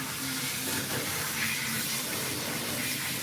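Water streams steadily and continuously while rinsing a Persian cat during a bath, a close, even running-tap rush with no breaks.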